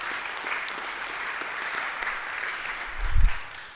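Steady audience applause for Brian Voss at a Veterans Day concert at Elim Lutheran church in Scandia. The clapping stays full and even throughout, with a low thump swelling near the end.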